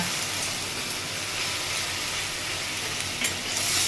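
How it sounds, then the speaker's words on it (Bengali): Ginger and garlic paste frying in a pan for a potol kofta curry, a steady close hiss and sizzle with faint scraping of stirring, no voices. "আদা রসুনের কাঁচা গন্ধটা চলে যাওয়া অবধি একটু কষিয়ে নেব"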